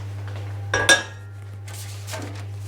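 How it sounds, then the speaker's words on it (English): A saucepan is lifted and set aside in a home kitchen while making ANZAC biscuits, giving a short pair of metallic clanks and clinks, followed by a softer scrape, over a steady low hum. "So we'll get rid of the saucepan"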